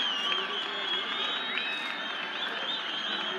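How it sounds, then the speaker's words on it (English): A cricket crowd at a Nepal versus Qatar match applauds a wicket, a dense, steady wash of clapping and cheering that carries on throughout. "The crowd are on their feet."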